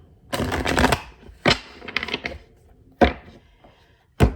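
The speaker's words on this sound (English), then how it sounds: "I'm shuffling." Tarot cards riffled and shuffled in several quick bursts, crisp papery flutters close by, with short pauses between each shuffle.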